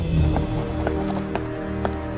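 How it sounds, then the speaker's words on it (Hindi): A horse's hooves clip-clop in a few distinct, spaced strikes over a steady low background, fairly close and without any clear whinny. "घोड़े ने बेकाबू होकर कीचड़ में फेंक दिया"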